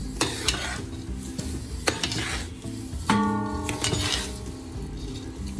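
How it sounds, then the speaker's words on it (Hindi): Ground dry fruits are stirred into panjiri in a pan on low flame, bringing repeated scraping and clinks of a spoon against metal over a soft background sizzle. "अब इसके अंदर हम डाल देंगे तमाम ड्राई फ्रूट जो हमने ग्राइंड करके रखे थे और इसको भी अच्छी तरीके से हम मिक्स कर लेंगे"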